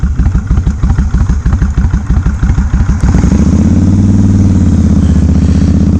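A Kawasaki Vulcan Classic 1500 motorcycle engine sits close and loud, first loping through a few seconds of deep rhythmic pulses at idle, then rising into a steady smoother rev.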